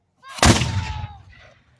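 A gunfire volley booms out at a historic fort reenactment at Fort Loudoun: one sharp, loud, close blast that rolls away over about a second.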